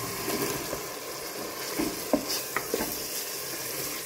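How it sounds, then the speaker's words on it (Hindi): Chopped eggplant frying with spices in a pan, a continuous close sizzle with a few stirring scrapes and taps, loud and steady throughout. "मसाले को 1 से 2 मिनट भूनने के बाद अब हम इसमें कटे हुए बैंगन डालकर"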